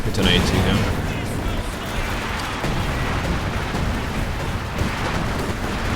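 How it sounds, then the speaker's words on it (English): A large 80 gun firing shells in the World War II strategy game Company of Heroes 2, heavy booming blasts and rumbling impacts that start strong and carry on through a dense battle din. "He even shoots it with an 80 gun"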